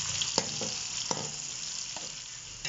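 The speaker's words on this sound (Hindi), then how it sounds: "प्याज को हमने ब्राउन करना है।" Onions fry in a pan for beef yakhni pulao, cooking until brown with a steady close sizzle and a few sharp stirring clicks and scrapes of a utensil; no one speaks.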